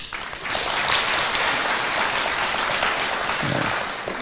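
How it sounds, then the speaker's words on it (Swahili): A crowd applauds steadily at a gathering of Methodist Church leaders hosted by President Ruto, the dense clapping loud and sustained for about four seconds before thinning toward the end. "Naona Vice Chancellor ndiye anapiga makofi zaidi."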